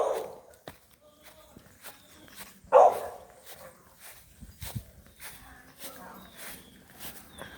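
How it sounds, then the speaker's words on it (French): A small dog barks outdoors during a walk in nature, one sharp nearby bark standing out over scattered footsteps and rustling, with people talking intermittently. "Apparemment, il y a notre petit chien qui aboie."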